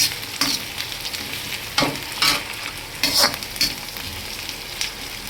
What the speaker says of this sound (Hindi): और प्याज आलू बन रहा है हमारा डिनर में